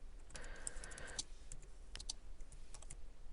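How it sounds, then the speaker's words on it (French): Quick light keystrokes on a computer keyboard as a question is typed, a soft irregular run of clicks close to the microphone in a quiet room. "je saisis à l'aide de mon clavier cette question"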